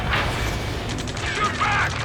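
Rapid combat gunfire and booms crackle in the video game Ace Combat 7, a dense fusillade running under shouted radio chatter throughout.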